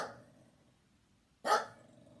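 Opal the dog gives two sharp barks, one at the start and another after a pause, loud and close in an otherwise quiet room.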